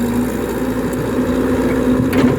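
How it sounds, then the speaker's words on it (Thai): A Kobelco SK120-3 excavator's engine runs under heavy load while digging hard soil, a steady loud droning hum with a constant low tone and no break. "นี่ตักดินแข็งอยู่นะครับนี่ นี่ตักดินแข็งให้ดูเลยครับ"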